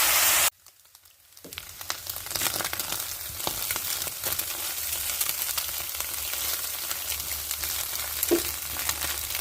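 Dhenki greens frying in oil with onion, garlic, and dried and green chillies: a steady, crackling sizzle after a brief silence, with occasional louder pops and stirring, no talk.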